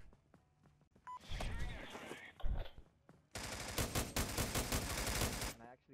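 Bursts of automatic gunfire in the military shooter game America's Army, loud rapid volleys in two long stretches, with someone talking between them.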